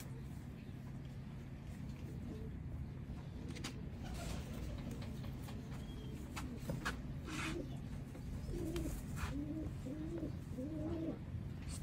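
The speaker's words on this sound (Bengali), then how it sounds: "এই হচ্ছে সালারা ট্যাডি, মেল বার্ড" Pigeons in a loft, including a male Salara Teddy, give soft, low, repeated coos under quiet background noise, with scattered clicks and faint voices nearby.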